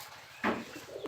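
Pigeons feeding together let out a short, soft coo partway through, close and fairly quiet over a low background hum.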